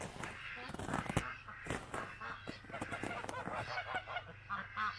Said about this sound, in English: The geese are protecting the ducks from the dogs.